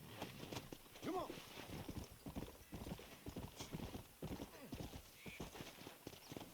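Horse hooves clip-clop steadily through a Red Dead Redemption game scene, with a short whinny near the start, all under ongoing talk.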